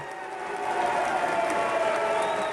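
Scattered applause from a convention audience, a thin steady patter of clapping mixed with murmuring crowd noise, moderately distant.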